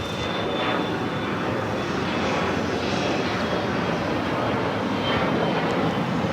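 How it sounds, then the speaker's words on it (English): A Gulfstream G450 business jet at Los Angeles International Airport gives a steady, broad engine roar with a faint high whine, distant but loud and continuous, with no voices. "This is a Gulfstream G450."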